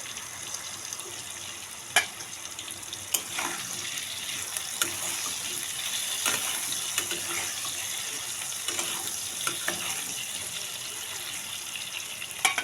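Potatoes frying in a pan after salt and a little turmeric go in, during soybean recipe cooking: a steady soft sizzle and hiss throughout, with a few sharp clinks of a spatula or utensil against the pan.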